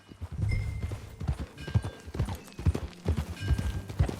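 Video game horse hooves from Red Dead Redemption 2 clip-clop in a steady rhythm at a close, moderate level, with a brief horse snort or whinny in the mix.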